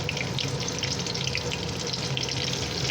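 Garlic frying in oil in a pan, a steady, close, continuous sizzle with a faint watery hiss and occasional soft stirring, no voices.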